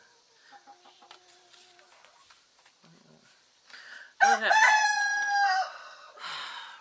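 Chickens cluck softly in a farmyard before a rooster lets out a loud, close crow, with a second crow trailing off near the end; a person briefly speaks beforehand.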